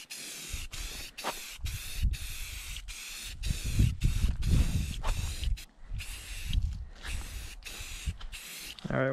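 A spray gun lays a light finish coat on a post and beam barn, its hiss coming in repeated short bursts with brief gaps, under a voice talking through the middle.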